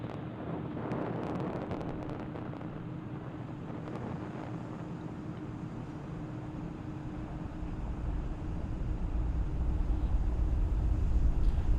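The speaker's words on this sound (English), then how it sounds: "Falcon 9 has successfully lifted off from Launch Complex 39A, carrying our 53 Starlink satellites" A SpaceX Falcon 9 carrying 53 Starlink satellites lifts off from Launch Complex 39A. Heard from a distance, it is a broad, rushing roar with wind buffeting, swelling into a deeper, heavier rumble toward the end.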